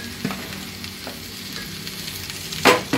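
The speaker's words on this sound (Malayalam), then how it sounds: "ഇനി നമുക്ക് അരിഞ്ഞു വച്ചിരിക്കുന്നതായ മുന്തിരിങ്ങ ഇട്ട് കൊടുക്കാം." Chopped grapes hit a hot pan for grape pickle, giving a steady sizzle with soft stirring scrapes and a brief louder hiss burst near the end, close and alone without talk.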